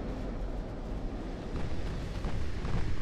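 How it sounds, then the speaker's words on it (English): A flash fire explosion aboard a battleship in Ultimate Admiral: Dreadnoughts, heard as a dense, continuous roaring rumble that builds slightly over a few seconds without distinct pauses. "We got a big flash fire in the rear of the ship."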